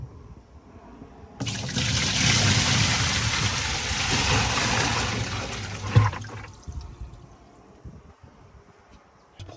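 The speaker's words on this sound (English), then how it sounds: "Pull that plug and see where the water goes." Water draining from the plug of a Tesla Cybertruck storage locker, a sudden steady gushing rush that runs for several seconds, then cuts off into faint dribbles and drips, close and loud with no talking.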